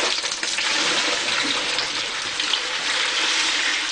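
Water spills and splashes steadily from a whole house water filter sump as it is opened, a continuous close rushing pour with no talking.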